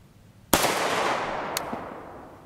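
Single sharp rifle shot from a 16-inch barrel firing a 7.62x39mm 46-grain FMJ Czech training round, loud and close, followed by a long decaying echo and a fainter second crack.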